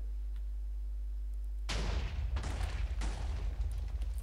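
A tall stack of layered dynamite in a block-building video game detonates, the top layer setting off the one below: a sudden loud boom after a quiet hum, followed by a second rumbling blast and a third trailing explosion.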